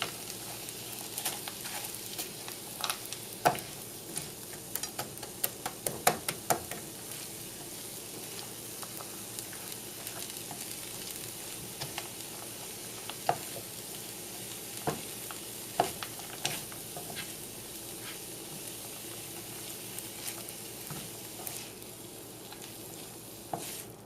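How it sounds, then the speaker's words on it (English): Frozen corn being stirred into a hot frying pan while vegetarian lasagna filling is cooked, giving a steady low sizzle with scattered scraping and clinking spoon strokes throughout, no voices. "Mix the frozen corn in here."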